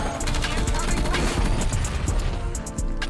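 A Kilo rifle rattles off rapid, repeated shots in a video game match, a dense run of cracks with crashes and game noise under some speech.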